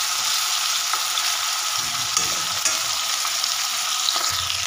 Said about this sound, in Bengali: চলো চিংড়ি মাছটা আমার ভাজা হোক।